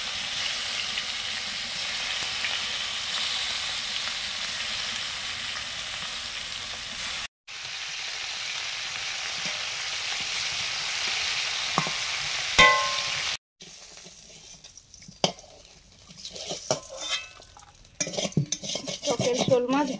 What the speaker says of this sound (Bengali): টক করার জন্য শোল মাছগুলো ভেজে নিচ্ছি।